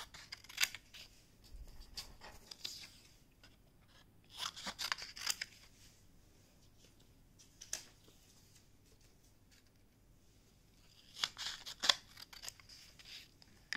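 Scissors snip through colored paper in a few separate bursts of quick crisp cuts, close and fairly quiet, with soft rustling and near-silence between them.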